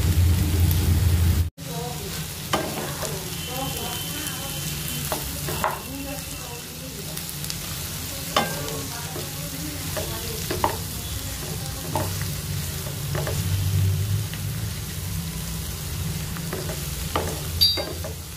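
Chilli bell peppers and vegetables lightly frying in a pan for Bhutanese ema datshi, a soft steady sizzle running throughout with intermittent stirring clinks and scrapes, a brief sharp knock near the start, and faint speech-like sounds at times.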